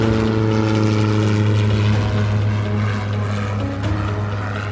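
A propeller airplane powers up for takeoff from a runway at Fort Wayne, its engine a loud, steady droning hum that holds throughout with no voices over it.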